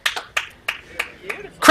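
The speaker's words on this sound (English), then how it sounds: "Crowd goes wild" A handful of separate claps ring out in a slow, uneven rhythm at an under-18 women's junior slam match, followed by a louder burst of sound at the end. A voice is faintly present.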